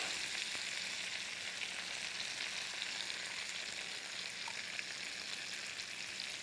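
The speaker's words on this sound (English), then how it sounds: "We don't want to brown the shallots, but we want to give them a little flavor, so they need to just kind of shake up in the pan a little bit." Shallots fry gently in a pan, giving a faint, steady sizzle and hiss that runs evenly throughout with no talking.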